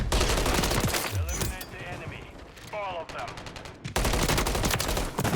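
Rapid gunfire in Call of Duty Modern Warfare 3 during aim training against moving targets, loud bursts of shots filling the opening and closing seconds, with a quieter stretch of game effects between them.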